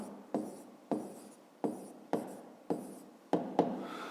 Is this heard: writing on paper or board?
yes